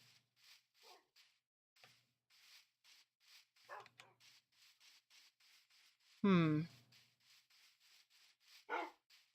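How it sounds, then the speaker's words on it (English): Wolves in the blocky survival game Minecraft bark in a few short separate yelps, one loud and close among quieter ones, over faint rhythmic footsteps, with someone talking. "Wow, a lot of wolves."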